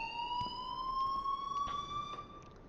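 School alarm in the video game Life is Strange, a steady high electronic tone ringing continuously with faint rising pitch and a few soft knocks underneath, moderately loud and without talk.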